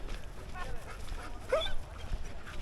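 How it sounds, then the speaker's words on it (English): A Presa mix dog on a lead at a busy park gives a brief high whine, close to the mic, over outdoor background noise. "You can hear her whining."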